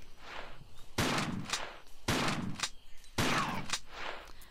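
Three sharp, loud gunshots ring out at roughly one-second intervals in a Tomb Raider level-editor game, each with a short decaying tail over faint background ambience.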